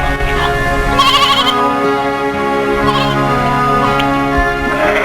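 A flock of sheep bleats in a dense, overlapping chorus of nasal calls, loud and close, with several bursts standing out over a steady background, set in a short film's pastoral scene.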